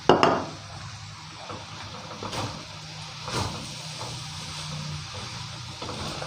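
Blanched Chinese kale stir-fried with yellow noodles and soy sauce in a wok, a loud scrape at the start followed by continuous sizzling with occasional spatula clatters and stirring sounds, no voices.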